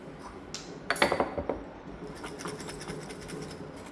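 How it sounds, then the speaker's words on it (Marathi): Glass pickle jar with mango pickle in oil being tipped up and down to mix, producing clinking, rattling glassy knocks in a short burst, fairly close and soft, with no talking. "असं बरणी घेऊन खालीवर खालीवर करायची छान असं खालचं तेल वर येतं"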